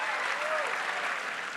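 Audience at a political event with California Governor Gavin Newsom applauding steadily, a dense wash of clapping from a crowd filling the room.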